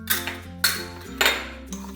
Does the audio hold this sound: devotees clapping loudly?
no